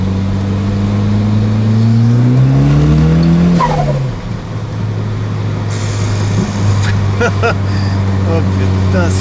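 Close, loud turbocharged car engine revving and accelerating with rising then falling pitch, a brief dip around a gear change before pulling hard again, with people talking excitedly over it.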